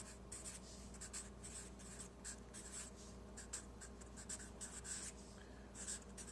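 Pen or marker scratching across a writing surface as an equation is handwritten, faint and close, in short repeated strokes with small gaps, no voices.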